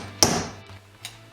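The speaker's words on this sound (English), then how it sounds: "you can use a sharp chisel and just kind of carefully hammer it, and it's coming off pretty easy" Two sharp metallic hammer blows on a chisel cutting a wear ring off a harmonic balancer on a 1997 7.3 Powerstroke, a loud strike followed by a fainter one with a low hum underneath.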